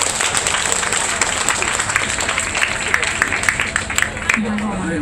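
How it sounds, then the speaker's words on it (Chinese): A crowd applauds at an outdoor band concert at a music festival in a sports park, a dense steady wash of clapping that fills the whole stretch, with voices and a brief tonal sound near the end. "掌声鼓励。"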